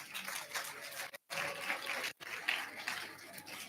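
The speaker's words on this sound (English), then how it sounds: "we need to really give them a round of applause." Audience applause at a South African women's dialogue gala dinner celebrating twenty years, a dense steady patter of many hands with two brief sharp dropouts, moderately distant in the hall.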